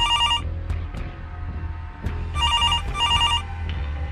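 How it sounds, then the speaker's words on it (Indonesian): An old-style telephone bell rings in repeated bursts on a Sunday morning, its loud trilling rings separated by short gaps over a steady low background hum. "Pas pagi-pagi itu ada suara telepon berdering."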